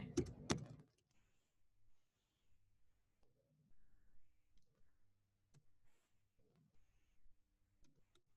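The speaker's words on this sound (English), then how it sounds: "Oh goodness, I can't type today." Fingers type on a computer keyboard in sparse, irregular bursts of soft clicking, faint and close, following one louder knock at the start, with quiet room tone in between.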